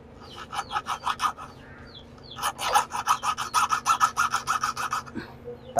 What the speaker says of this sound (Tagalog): Kikilan ko muna.